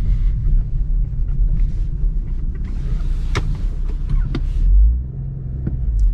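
A BMW M140i rolling slowly while parking, a low steady engine rumble from inside the cabin with a few clicks and a brief swell near the end, no talking.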